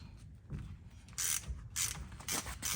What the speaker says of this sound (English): We'll stick a driver in there and bust this nut loose.